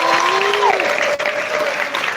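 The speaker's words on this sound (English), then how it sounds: "So give them a round of applause." Audience applause at the Mr Beast live 1 billion followers summit in Dubai, a steady dense wash of clapping sustained across the whole moment, with a faint tone or voice running underneath.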